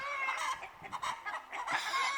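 A backyard flock of two roosters and sixteen hens clucks and squawks in complaint, with close, overlapping calls rising to a loud burst at the end.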